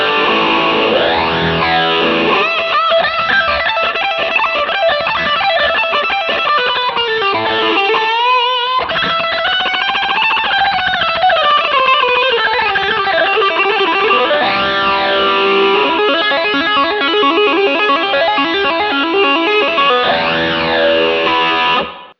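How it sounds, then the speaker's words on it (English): An electric guitar runs through a Harley Benton DNAfx GiT Pro multi-effects unit set to distortion, playing loud, saturated chords and sliding bends continuously, with one brief gap before the playing resumes. "I'm just going to assign a foot switch to distortion there."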